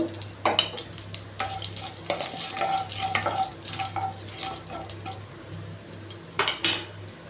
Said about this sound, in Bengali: এবার এতে আমরা কালো জিরে ফোড়ন দিয়ে দেব। খুন্তি দিয়ে একটু নেড়ে নেব।